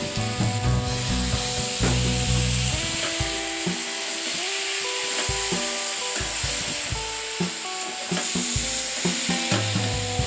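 Tomato puree made from two medium tomatoes is poured over onion pieces frying in a pan for a soup, giving a loud, steady sizzle. Stirring scrapes and rubs on the pan cut through it now and then.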